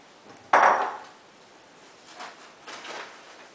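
A bowl being handled while kitchen items are packed for a move: a single close, sharp clatter with a ringing tail, then a couple of softer knocks and rustles.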